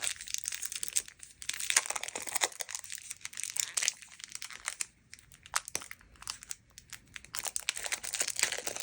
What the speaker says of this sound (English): If I can get it out of the package.